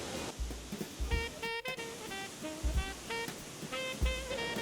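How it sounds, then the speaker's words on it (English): Background water rushes and splashes at a holiday festival in a theme park, a steady wash under faint musical tones and scattered bumps, moderately distant, with no talking. "I hope there's not too much water in the background."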